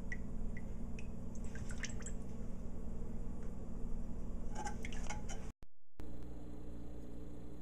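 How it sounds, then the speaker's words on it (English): Grease drips from cooked hamburger beef in small, irregular liquid drips and soft squishy sounds, faint and close, over a low background hum. "Still got some more grease coming out."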